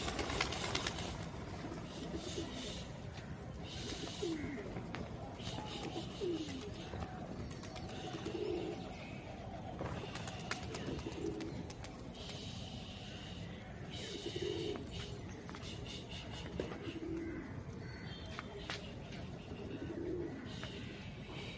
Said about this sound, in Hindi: बाकी सब कबूतर उड़ गए भाई, इनको भी उड़ाते हैं